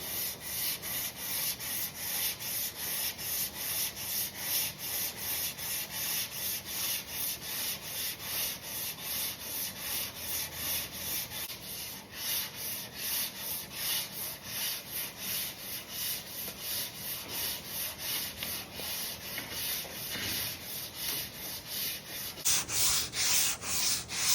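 A vehicle panel with guide coat is block sanded with 180-grit sandpaper before painting, giving a steady rhythm of close, raspy back-and-forth strokes that grow slightly harsher near the end, with no voices.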